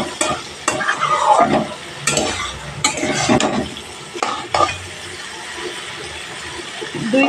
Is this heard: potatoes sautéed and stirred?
yes